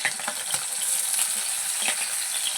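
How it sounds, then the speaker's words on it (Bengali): Ribbonfish pieces frying in a pan for a spicy curry, a dense continuous sizzle and crackle up close, with faint utensil taps now and then. "এই দেখো তরোয়াল মাছের ঝাল করবো, ওই জন্য ভাজছি আমি"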